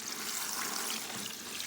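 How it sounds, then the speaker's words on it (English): Water is poured over comfrey leaves in a container, a continuous close splashing rush with no pauses. "basically we're just going to throw some water on top of it"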